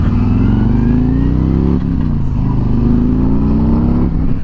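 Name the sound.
2020 Harley-Davidson Street Glide Special motorcycle riding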